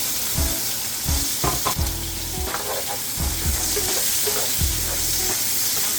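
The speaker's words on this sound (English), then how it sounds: "These have been frying up for about 2 minutes or so." Steady sizzling of food frying in hot oil, with crackles and pops throughout and a few soft knocks, close and continuous.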